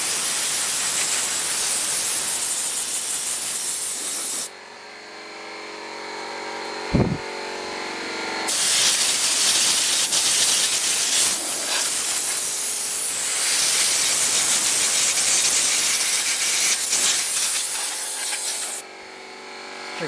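Compressed air blasting dust out of a computer case, a loud, close hiss that cuts out briefly, returns in a long sustained burst, then stops near the end.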